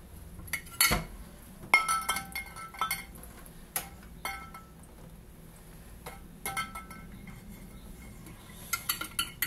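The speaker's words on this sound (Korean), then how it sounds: "자, 1대1로 버무린 꽃과 설탕을 병에 넣고 있어요" Sugared flowers being spooned into a glass jar, with irregular light clinks and scrapes of utensil against glass scattered throughout, close and fairly quiet.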